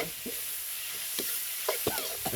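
Cucumber stir-fried with egg in a hot pan gives a soft, close sizzle, with a few brief scraping stir strokes near the end and no voices, over a hissy background.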